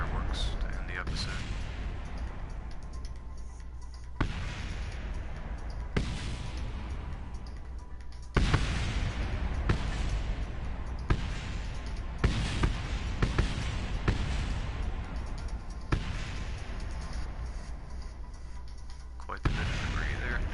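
Rocket explosions and fireworks in the game Kerbal Space Program go off as a rapid series of sharp booms and crackling bursts, some overlapping, with debris rattling between them.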